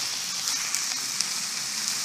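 Tomato purée sauce sizzles steadily in a pan over fried meat and vegetables, a dense bright hiss with small pops, close and continuous with no talking.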